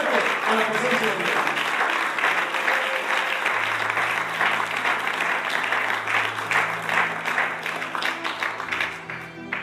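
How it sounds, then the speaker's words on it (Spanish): A church congregation gives a loud, sustained round of applause in worship, many hands clapping in a thick continuous roar that holds for nearly ten seconds, with voices and sustained musical tones sounding underneath. "un aplauso muy fuerte a la presencia de Dios"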